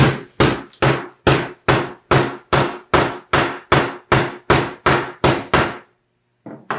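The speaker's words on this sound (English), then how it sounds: "I'm going to take this hammer." A hammer pounds thin sheet metal being flattened for a chicken kill cone, landing fourteen loud, evenly spaced metallic blows close up, then falling silent before a faint click at the end.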